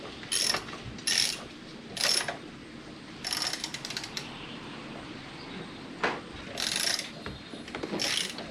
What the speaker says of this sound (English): Put the ratchet on it so you can turn it.